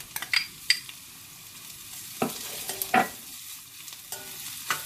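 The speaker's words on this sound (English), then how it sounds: "Mix that in and you will be able to smell the ginger, the garlic and the onions infusing." Crushed ginger, garlic and onions frying in a pot for a broad bean curry, a soft background sizzle punctuated by irregular clacks and scrapes of a spoon stirring, with no speech.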